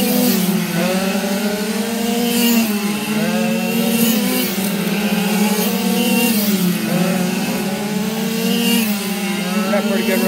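Race car engines roaring steadily on a track, loud and close, with pitch rising and dipping as they rev; a voice comes through faintly.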